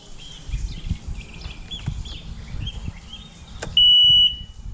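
A single steady warning beep sounds from a Bass Tracker Classic XL boat, lasting about half a second, loud and close over the low rumble and sloshing of a water hose running near the idling engine.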